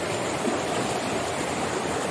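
Fast-flowing stream water after heavy rain near Dehradun, a loud, continuous broadband rush and roar close by, with no voices.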